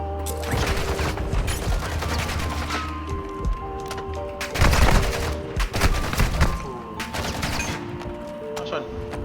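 Sniper fire and other gunshots in the video game Call of Duty MWII DMZ, sharp repeated cracks and bursts with a heavier cluster midway, mixed with game effects and players talking over them.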